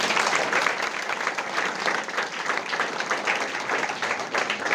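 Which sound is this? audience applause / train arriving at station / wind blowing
audience applause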